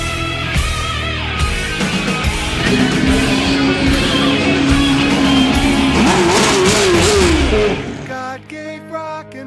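A street racing car's engine revs hard and loud, its pitch climbing and sweeping up and down for several seconds before cutting off abruptly near the end.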